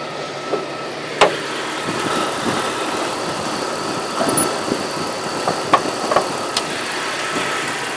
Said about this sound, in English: That's the engine, pretty standard 4-liter Jeep engine.